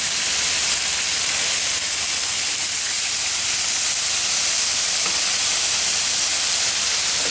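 Philly cheesesteak meat sizzling on a three-burner Pit Boss griddle, a loud, steady, broadband hiss that holds evenly throughout without pause.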